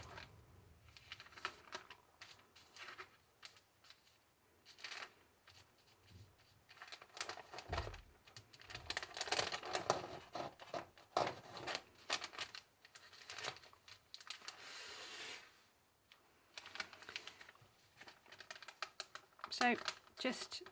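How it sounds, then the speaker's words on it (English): Tracing paper is torn away along a line of stitching, giving soft crackling rips and crinkles in short bursts, mixed with quiet talking throughout. "tear off the tracing paper."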